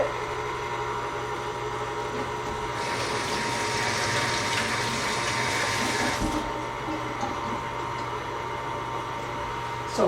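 A stand mixer with a dough hook kneads bread dough in a home kitchen class, a steady motor whir that swells louder and brighter for a few seconds midway before settling back to a constant hum.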